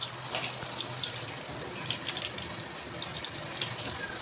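Boiled eggs are rinsed under a running kitchen tap, the water pouring in a steady close splash with small bursts where it strikes the eggs.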